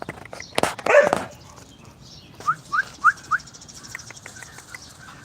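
A Klee Kai mini husky whimpers in a few short, high, rising whines spaced about a beat apart, following a louder, rougher yelp-like sound at the start.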